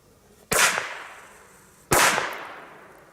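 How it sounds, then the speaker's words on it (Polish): A Triplex Volt 3-2 firecracker goes off twice: two sharp, loud bangs about a second and a half apart. Each one rings out with a long fading tail and there is no talking. "W sumie to samo praktycznie pod względem huku, tylko to dwa razy wybuchło."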